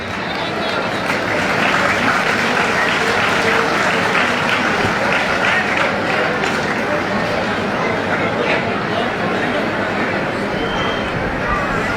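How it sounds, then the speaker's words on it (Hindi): Loud, continuous crowd applause at the Rajgarh Bhairav Dham Chhath fair, a dense roar of clapping from a large outdoor gathering with murmured chatter mixed in. "जोरदार तालियां बजा करके।"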